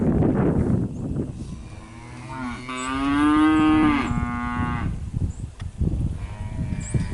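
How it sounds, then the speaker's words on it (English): Cows bellowing during weaning, with long, loud, drawn-out moos close by that rise and fall over several seconds, and other cattle calling in the background. "a couple more cows right here, which we've listened to Beller all night long"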